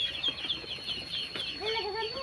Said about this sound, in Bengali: এই যে ভাই নিয়ে যেতেছে মুরগিগুলা, চলে যেতেছে আমার বাড়ি থেকে।